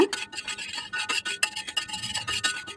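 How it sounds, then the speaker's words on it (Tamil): A spatula steadily scrapes and rubs as salt and oil are stirred across a new iron dosa pan, giving close, continuous gritty rasping strokes with no talk. "இந்த உப்பும் தோசைக்கல் முழுசும் ஸ்ப்ரெட் ஆகிற மாதிரி படுற மாதிரி அப்படியே கிளறி விடுங்க."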